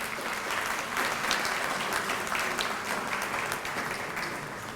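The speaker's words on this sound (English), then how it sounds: "Let's give them another round of applause." Steady, full audience applause at the opening ceremony for a Park Hyatt hotel in St. Kitts, a dense wash of many hands clapping that holds for the whole stretch without voices on top.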